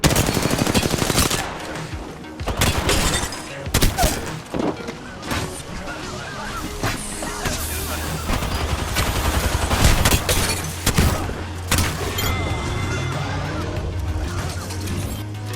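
Gunfire in Apex Legends comes as loud, rapid automatic bursts and single shots in a chaotic firefight, with impacts, a low drone and other game effects.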